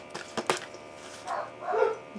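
Dogs barking and yipping in the background, with a few faint sharp barks followed by two longer, whining barks in a short burst and no talk.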